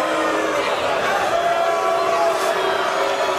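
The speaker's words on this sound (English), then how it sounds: "Boos from this crowd here at Caesars in Windsor, Ontario." A dense arena crowd at an MMA fight at Caesars in Windsor, Ontario roars in a sustained, fairly loud wash that fits booing.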